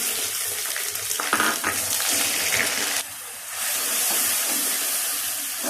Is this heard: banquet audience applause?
no